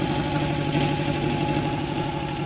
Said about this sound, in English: She's not running the greatest, but keeping her idling to try to figure out what's going on with her.